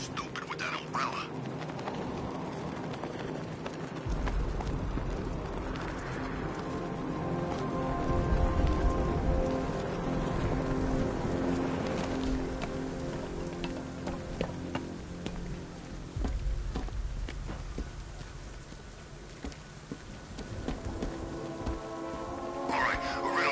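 In Batman Arkham Knight, steady heavy rain hisses across the night city without pause, a dense wash running beneath the characters' voices and background sound for the whole stretch.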